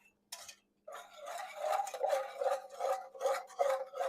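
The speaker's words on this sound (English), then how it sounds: "we're scraping all those yummy bits off the bottom" A utensil scrapes the bottom of a pan as flour cooks into a paprika-seasoned roux for creamy chicken and rice, giving a quick, rhythmic series of close rasping strokes after a brief pause.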